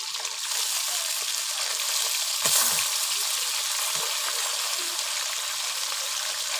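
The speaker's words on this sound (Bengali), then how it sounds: "এই দেখুন আমি হালকা করে ভেজে নিচ্ছি।" Small tilapia fish lightly frying in a pan, a dense loud sizzle of hot oil throughout, with a brief surge and a soft stir partway through.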